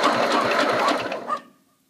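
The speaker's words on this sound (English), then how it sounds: "That engine don't sound half bad when it's cranking over like that." An original 1963 car engine cranking over with a fast, rhythmic chugging that runs loudly for over a second, then abruptly cuts out into silence.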